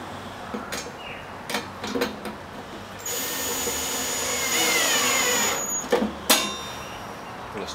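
A power drill driving a screw to fasten a part in a homemade workshop project, a whining run of a few seconds between scattered knocks and handling clatter, fairly close and moderately loud.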